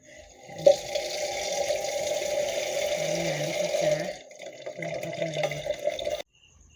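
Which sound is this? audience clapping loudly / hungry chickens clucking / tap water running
tap water running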